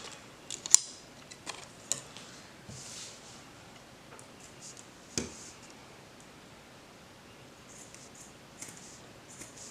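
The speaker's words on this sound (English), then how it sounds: "I just need to cut a square" Scissors cutting paper while crafting a book wreath, a sparse series of sharp close snips and clicks with light paper rustling over a quiet background, no talking.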